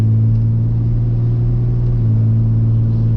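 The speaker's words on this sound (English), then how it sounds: "let me just give it a little more throttle, see what it does" A car engine under added throttle makes a loud, close, steady droning hum with a strong low rumble, and its tone shifts slightly partway through. No one speaks.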